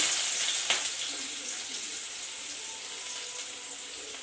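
Soft, continuous sizzle of onions frying in oil, even and fairly quiet throughout with no voices.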